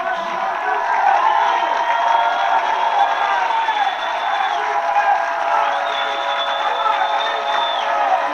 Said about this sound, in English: Marion crowd getting into it here